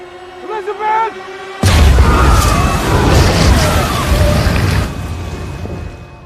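A car blows up in a film scene, a sudden loud boom bursting in after a short voiced exchange, then a dense roaring crash of flames and debris that holds for several seconds before cutting off.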